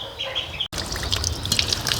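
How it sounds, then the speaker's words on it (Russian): A hen with her ducklings is heard through a busy farmyard mix of soft clucks and cheeping over a wet, dripping background, close and continuous with a brief cut partway through. "А эта курица с утятами"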